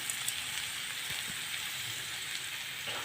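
Cabbage sautéing in a hot pan, a steady close sizzling hiss throughout with faint crackles and small clinks, no talking.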